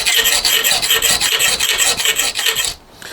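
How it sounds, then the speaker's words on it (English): Steady hand filing on an aluminium bracket for a Kawasaki Z650/1170 motorcycle headstock, with loud, rhythmic rasping strokes in close succession, then a brief pause and a softer final stroke. "I've still got an awful lot more filing to go"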